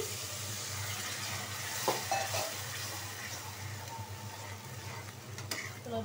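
Steady sizzling of spices, garlic and ginger paste frying with stirring scrapes; a splash-like burst of hissing comes partway through as a little water is added, then the sizzle continues.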